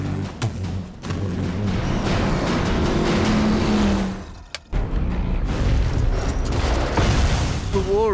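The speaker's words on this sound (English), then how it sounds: "It's two V8 engines locked together into one shaft." The Mad Max: Fury Road war rig, powered by twin V8 engines locked onto one shaft, roars by with a loud, rumbling engine growl and a short drop in the middle before the roar returns, over a talking voice.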